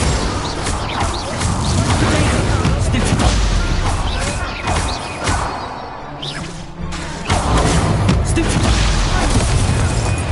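A fire spell cast in a PS4 wizarding game gives a burst of whooshing, booming blasts and crashes that roll on through most of the stretch, briefly dipping before surging again. A voice speaks over it.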